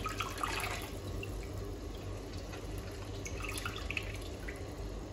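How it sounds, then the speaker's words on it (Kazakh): Water drains off boiled dough lifted out of a pot in a kitchen, a soft continuous trickle and dripping, close and quiet, with no talking. "Енді жаңағы қамырымызды судың ішінен суын сарқып аламыз."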